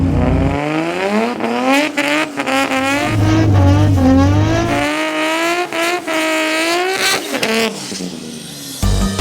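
A high-powered Toyota Supra street and strip car drives hard, its engine loud and close as it revs up and shifts through the gears with rising, falling pitch and brief gaps between shifts.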